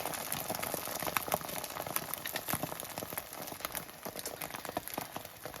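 Egg and tortilla wrap cooking in a home frying pan, a steady close crackling sizzle with dense popping, continuous and fairly quiet with no talk.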